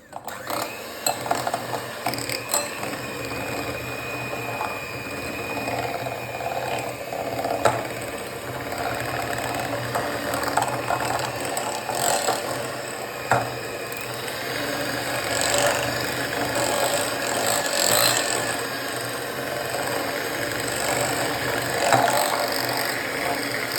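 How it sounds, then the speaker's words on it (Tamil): An electric hand mixer beats mascarpone cheese with icing sugar in a bowl, producing a continuous loud, gritty whirring rasp that continues steadily throughout. "நான் வந்து 1/4 கப் ஐசிங் சுகர் சேர்த்து நல்லா பீட் பண்ண போகிறோம்."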